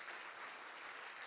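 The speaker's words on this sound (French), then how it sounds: "Vous pouvez aussi, encore une fois, applaudir tous nos sponsors, applaudir la fac," An audience at a conference closing keynote applauds in a brief, dense, steady burst of clapping, fairly faint and even, with no voices heard.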